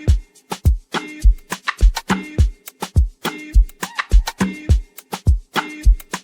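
An Afro amapiano drum pattern built in FL Studio, with two layered kick drums and a shaker, plays at a steady, bouncy tempo. Deep kicks thump under crisp percussive hits, loud and upfront, with no voices.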